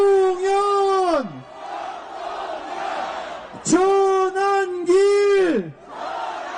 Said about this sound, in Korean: 함께 호응하고 승리의 함성을 질러주십시오.